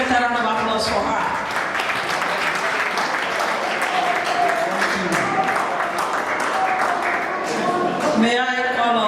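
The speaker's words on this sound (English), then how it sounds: "This is a better round of applause for her." A round of applause at a ceremony opening a medical diagnostic and research laboratory: dense, sustained clapping from a gathered audience filling the whole stretch, with voices mixed in and a brief lull near the end.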